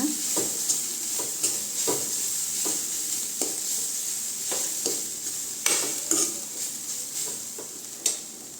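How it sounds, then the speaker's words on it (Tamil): Carrot stir-fry with grated coconut being stirred in a pan, a spoon scraping in repeated irregular strokes over a soft steady sizzle, close and moderately loud with no voices. "தேங்காய் சேர்த்து நல்லா கிண்டி விட்டுக்கோங்க"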